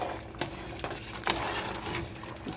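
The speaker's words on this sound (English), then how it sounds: "We stir." A spoon stirs assorted meat Nigerian pepper soup in a pot, giving a few faint scrapes and knocks against the metal with a soft simmering bubble underneath.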